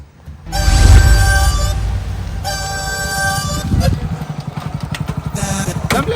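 A motorcycle engine starts and runs, a loud steady hum that later turns into rapid rhythmic putter as it idles, with a background tone and voices around it.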